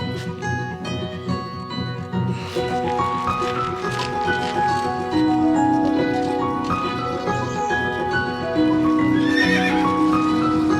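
A horse neighs and whinnies repeatedly while hooves clip-clop steadily, close and fairly loud, with a rural outdoor backdrop and no talk over it.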